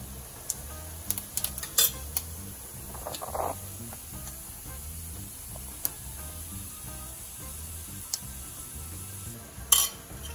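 Mustard seeds, urad dal and cumin spluttering in hot oil, scattered sharp pops and crackles over a low steady sizzle, with occasional louder bursts and no talking.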